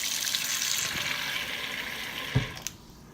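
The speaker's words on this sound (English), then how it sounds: "put it in the sink, under the faucet" Water pours from a kitchen sink faucet while baking, a steady broad hiss of running flow that stays fairly loud and even, broken near the end by a couple of sharp clinks before the stream cuts off and fades.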